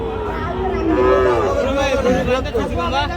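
Shahiwal bull calves mooing at a cattle market, several close, drawn-out calls overlapping one another with faint crowd chatter behind.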